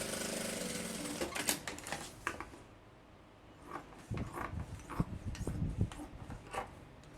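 A sewing machine stitches a backpack seam, running in short rapid mechanical bursts with a quiet pause in the middle, close and fairly faint, with brief fabric handling between runs.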